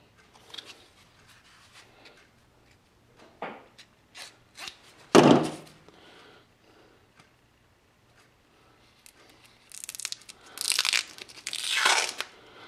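Drying, sticky clay is cut out along its seam with a blade, producing scattered scraping and tearing strokes, one sharp louder crunch in the middle, then a cluster of rough, rasping cuts toward the end.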